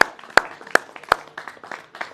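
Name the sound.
applause for phone volunteers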